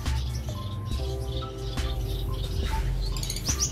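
African lovebirds and golden finches chirp in an aviary, with short high tweets and calls scattered over a steady low hum of background noise, no voices.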